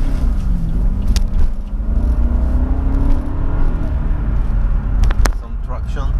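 A BMW 745i E65 sedan in sport mode with manual shifting pulls away in city traffic, heard from the cabin as a steady engine rumble whose pitch climbs as revs rise, with a short clunk near the end.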